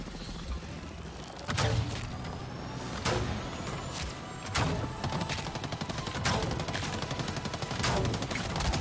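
Enemy gunfire in the video game Avatar: Frontiers of Pandora, with repeated sharp shots and bursts cracking out over a busy, dense game soundscape for several seconds.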